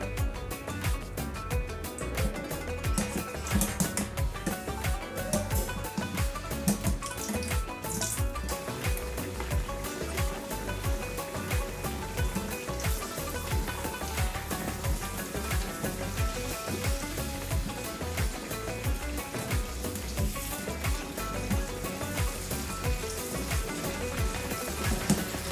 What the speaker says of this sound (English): now I've heated some oil because I want to fry these potatoes